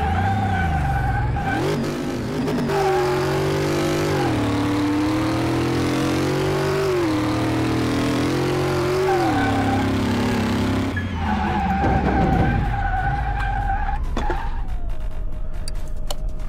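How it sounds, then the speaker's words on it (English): In Car Mechanic Simulator 2018, a car with strong rear torque spins its wheels, its engine revving loudly in rising and falling sweeps against a steady tire squeal, cutting off briefly before the whine resumes. "The thing has so much rear end torque, it just spins out on you."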